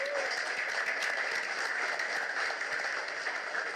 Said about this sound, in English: how about a nice round of applause for these guys for showing up?